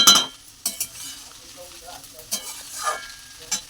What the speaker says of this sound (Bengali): এই যে আমি আস্তে আস্তে নাড়ছি